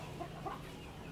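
A broodcock rooster clucks softly a few times, faint and close, over a quiet background.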